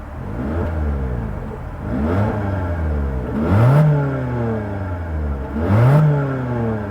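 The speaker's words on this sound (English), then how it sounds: "let's check out the exhaust note" Exhaust note of a 2026 Toyota Corolla Hatchback, heard close up with the engine idling between a series of revs, each climbing and falling back in pitch, alone without talk.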